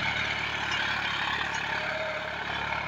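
John Deere 5105 tractor running while pulling a cultivator, a steady close diesel rumble with an even low throb and no voices.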